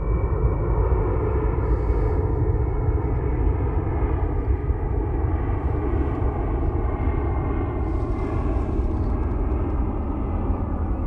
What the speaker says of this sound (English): There's another bloody aeroplane.